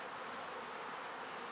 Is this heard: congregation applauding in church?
no